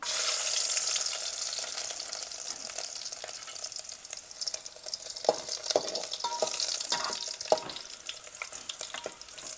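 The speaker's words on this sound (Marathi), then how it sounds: "लसूण टाकून घेऊया पहिली" Garlic fries in hot oil with curry leaves, a steady crackling sizzle close by with scattered pops and spatters, no one talking.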